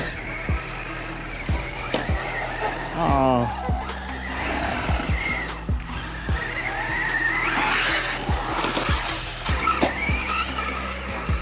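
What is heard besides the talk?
Arrma Typhon and Mojave RC cars bumping and skidding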